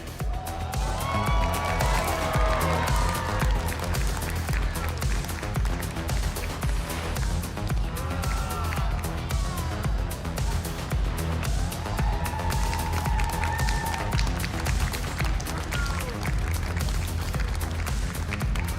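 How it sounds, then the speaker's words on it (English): Large indoor crowd cheering and shouting steadily throughout as players walk out at a Pokémon North America International Championships match, a loud continuous roar with scattered higher whoops and no clear speech. "the crowd, you hear that? That's a lot of cheering."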